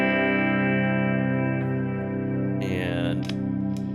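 A Seymour Duncan Alpha/Omega-equipped electric guitar plays a sustained, distorted lead tone, wrapped in echo, chorus and reverb that build a dense wall of sound, with a brighter swelling note near the end.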